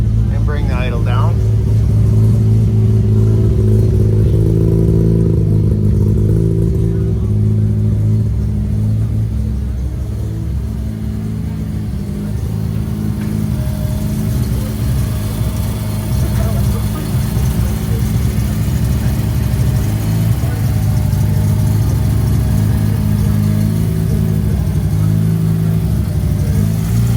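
Rotary 13B engine swapped into a BMW Z3, a deep, loud, close rumble that revs briefly and then settles into a steady, lumpy idle.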